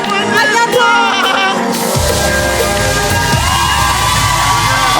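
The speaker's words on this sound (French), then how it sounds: "Un tonnerre d'applaudissements" An audience at a live music session bursts into loud, dense cheering and applause with whoops and shouts, close and sustained, while a low musical tone lingers underneath.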